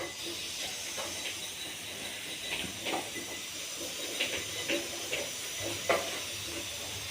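Bhaji fritters frying in hot oil in a kadhai during home cooking, giving a steady, close sizzling hiss with scattered soft crackles and no talking.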